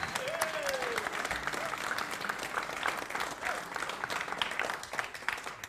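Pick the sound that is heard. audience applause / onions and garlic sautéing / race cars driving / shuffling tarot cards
audience applause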